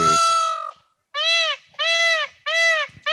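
Several loud, nasal honking duck calls ring out one after another with short gaps, close and harsh, sounding like a stock sound effect with no talking.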